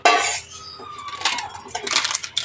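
A cup being rinsed with warm water, clattering against dishes and cutlery in close, loud clinks and scrapes that recur across the clip.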